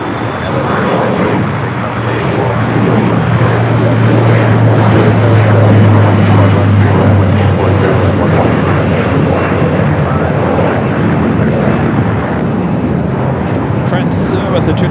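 A Porter Airlines Embraer E2 airliner departs from the south side at Los Angeles airport bound for Toronto, its loud, steady jet roar holding strong throughout with a low engine drone, while a voice talks over it.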